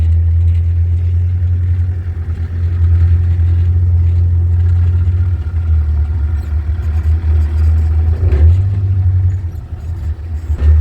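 An ATV engine on a Kualoa Ranch tour hums loud and close, a deep steady rumble that shifts in pitch as the quad pulls away and gathers speed, with faint clatter over it.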